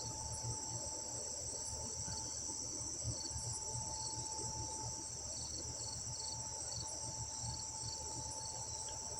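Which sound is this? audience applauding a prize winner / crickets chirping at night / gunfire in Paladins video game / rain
crickets chirping at night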